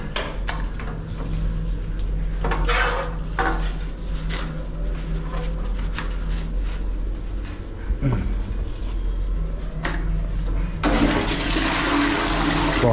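A toilet is flushed to wash debris down a blocked drain, and rushing, gurgling water runs loud and close for several seconds over clanks and handling noises, ending in a bright surge of water.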